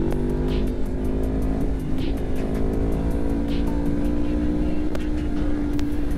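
A Yamaha MT-10 motorcycle, with an R1-derived engine, drones steadily with a rising, revving tone as it accelerates, close and loud, with wind noise over it.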